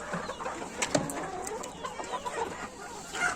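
Chickens and roosters in a coop clucking and calling on and off, several birds close by with soft overlapping chatter, one sharper squawk and light background rustle.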